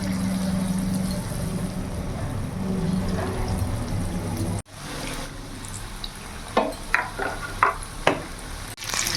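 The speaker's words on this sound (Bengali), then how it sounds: "তেল গরম হয়ে গেছে, এবার একটা একটা করে আমি ছেড়ে দেবো।" Rohu fish pieces sizzle in hot refined oil in a kadai, a moderate steady hiss with scraping and a few sharp spatter pops in the later part.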